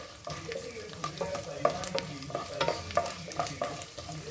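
Dried red chillies, urad dal and chana dal frying in hot oil while being stirred, giving a soft continuous sizzle broken by repeated scraping and clinking strokes of a spoon in the pan, close and fairly quiet, without talk.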